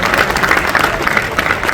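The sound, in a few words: audience applause for a comedian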